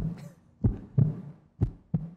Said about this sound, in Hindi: ये आज हमारे किसकी दिल की धड़कन?